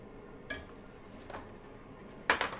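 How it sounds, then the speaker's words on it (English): Dishes and cutlery clink and clatter in a kitchen during washing up: three separate bursts of metal and crockery contact, the last the loudest, over quiet room background. "I seem to like washing up"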